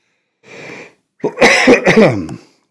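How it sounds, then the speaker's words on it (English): A man coughing close to the microphone, a short muffled cough followed by a louder cluster of three or four rough coughs. "I'm going to need to cough here for a second"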